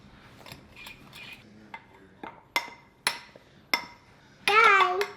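A spoon knocks repeatedly against a bowl while homemade edible slime is stirred, sharp clinks spaced irregularly, with children babbling and talking softly in the background.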